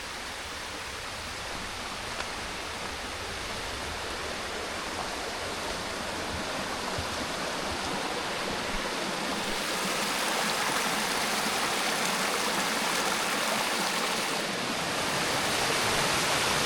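Unnamed creek flowing beside a trail near Soco Falls, where two creeks meet: a steady, broad rush of running water, close and continuous, growing slightly louder toward the end, with no voices.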